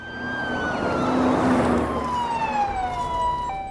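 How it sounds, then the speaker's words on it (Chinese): Police car siren wailing at night, a loud rising and falling tone that sweeps close and then recedes as the vehicle passes, with road rumble beneath and no talking. "几个人觉得警车连夜出动"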